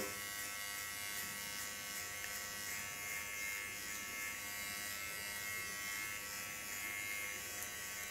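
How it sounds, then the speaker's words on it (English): An electric Kiona hair clipper trims neck hair, giving a steady, close, high-pitched buzz that holds constant throughout without breaks or talking. "Go in with my Kiona clipper."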